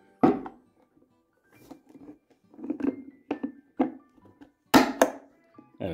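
Plastic glove box lock on a Renault Clio 4 being pushed and snapped into its housing: a series of dry clicks and knocks, close and uneven, ending in two firmer snaps.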